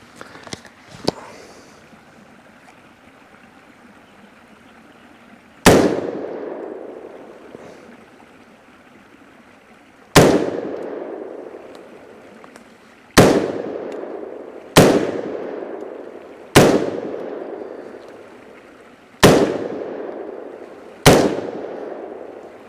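A Sechin Arms MOD MS-16 5.56mm semi-automatic rifle fired outdoors: seven sharp, loud single shots at irregular intervals, each cracking out and decaying into a long echoing tail, with quiet handling noise before the first.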